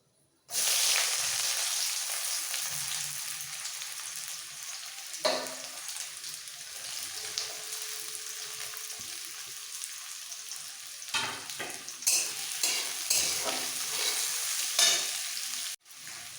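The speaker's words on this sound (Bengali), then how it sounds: "এবার পেঁয়াজটাকে লাল করে ভেজে নেবো" Two large chopped onions frying in a pan for a soybean and potato curry, a continuous loud sizzle with intermittent stirring scrapes and knocks of the spatula, no voices.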